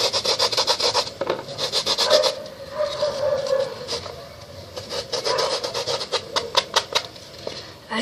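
Rhythmic rasping strokes of material being scraped by hand to make fake snow, a quick run of close, dry rubbing scrapes with short pauses between bursts.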